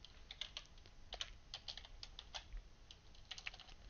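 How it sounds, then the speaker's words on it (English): Rapid typing on a computer keyboard, a steady patter of close, light key clicks in uneven bursts with no voices. "maybe if I can type here."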